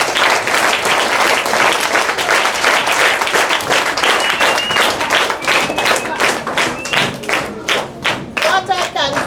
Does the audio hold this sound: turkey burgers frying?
no